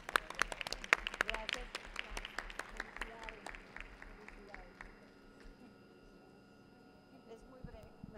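Scattered applause from a small group at a committee meeting on environment and natural resources, a burst of claps that thins out over several seconds and fades, moderately faint in a large room.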